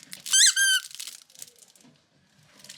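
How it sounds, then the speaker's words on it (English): A vending machine in Tokyo lets out a loud, high-pitched squeak in two short bursts. Faint rustling and handling noises follow. "Still squeaky though."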